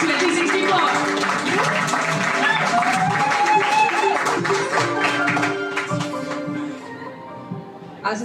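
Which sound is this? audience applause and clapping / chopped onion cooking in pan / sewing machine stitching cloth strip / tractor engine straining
audience applause and clapping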